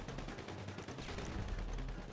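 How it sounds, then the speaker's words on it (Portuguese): Rapid gunfire in the video game GTA 5, a dense run of overlapping shots and bursts filling the whole stretch at a steady, busy level with no talk. "tomei muito tiro na cabeça"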